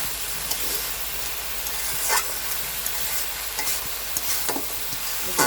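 Bitter gourd and potato fry in a pan with a constant hissing sizzle, as a spatula stirs and scrapes now and then, close by and without talk.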